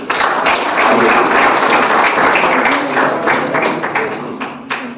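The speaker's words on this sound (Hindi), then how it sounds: "आप सभी तालियों के साथ स्वागत करें" A hall audience at an Ambedkar gathering against superstition gives dense, steady applause welcoming a guest, loud and continuous, thinning slightly toward the end.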